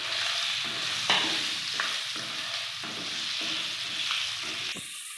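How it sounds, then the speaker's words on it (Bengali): Boiled, squeezed soybean chunks fry in hot oil, making a loud, continuous sizzle. A spatula scrapes and stirs in repeated strokes, about once a second, and there is no talk. "সেই সয়াবিনটা দিয়ে দেব। এটাকেও আমি ভেজে নেব।"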